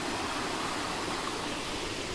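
A waterfall hidden in dense forest in the Ajodhya Hills of Purulia gives a steady, loud broadband rush of falling water, continuous and unbroken, with no voices.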